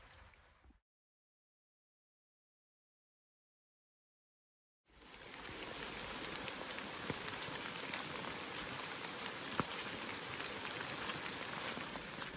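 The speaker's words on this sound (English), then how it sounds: "the rain is in the process of stopping" Rain pattering steadily on leaves and ground in a forest on the Appalachian Trail near Hot Springs, with scattered louder drips, after a brief burst and several seconds of silence.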